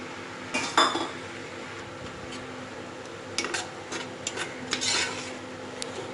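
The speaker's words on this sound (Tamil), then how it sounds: "நல்லா கொஞ்சம் தக்காளி வந்து சாஃப்டாக ஆகிறது வரைக்கும் நீங்கள் கிண்டி விட்டுட்டுருங்க" Chopped tomatoes stirred into onions in a pan for a Dindigul-style chicken biryani, heard as sparse metallic scrapes and clinks of a spoon against the pan, with a couple of louder knocks and quiet gaps between strokes.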